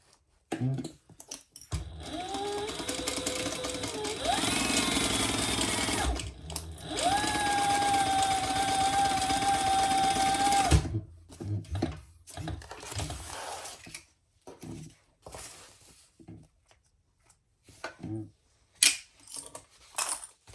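A sewing machine stitches a seam on a fabric crossbody bag, running in two sustained whirring bursts with a brief pause between them, followed by scattered clicks and handling noises.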